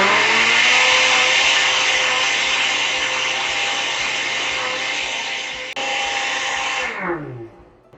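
A blender grinds soaked chipotle chiles for adobo sauce, a loud steady motor whir with a broad churning roar that runs alone for about seven seconds, dips briefly, then spins down and stops near the end.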